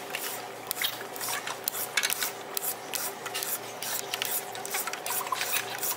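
A hand-turned cutter twists slowly into a wooden dowel while a nut cracker is being made, giving a close, soft, continuous rasping scrape broken by small clicks and creaks. No one speaks over it.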